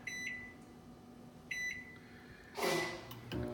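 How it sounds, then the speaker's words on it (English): A microwave oven heating a butter container runs with a low steady hum, broken by two short electronic beeps and then a louder burst of clattering, close by with no talking. "I'm going to stick it in the microwave for about"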